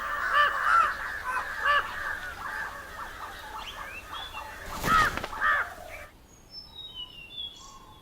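Several crows caw in a park in India, harsh repeated calls rising over a busy outdoor background, with a brief rustling burst midway before the scene cuts to quieter ambience.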